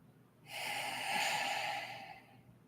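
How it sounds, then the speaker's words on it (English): A slow, deep inhale through the nose, close and fairly soft, rising and then tapering off over about a second and a half in a quiet room. "So breathing in through your nose"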